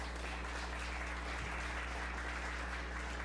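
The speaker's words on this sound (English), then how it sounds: "Let's give all these kids a round of applause," Spectators at a 4-H fair beef show give the young exhibitors a round of applause, a steady, continuous clapping wash heard from some distance under a constant low hum.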